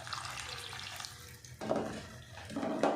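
Water poured into a pot of fried potatoes and peas for curry, a soft trickling pour that swells into louder splashing bursts near the end.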